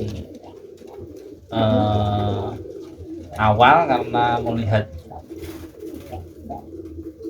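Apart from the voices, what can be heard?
pigeons cooing in a loft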